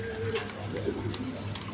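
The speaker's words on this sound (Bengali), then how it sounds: "এইখানে এক পেয়ার স্যাডেল কবুতর আছে, স্যাডেল হুমা বলে।" A pair of big-sized saddle huma pigeons cooing softly in low, rolling murmurs, steady and close, with faint background ambience around them.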